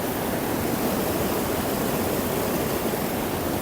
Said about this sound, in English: I am just next to this stream that is joining the river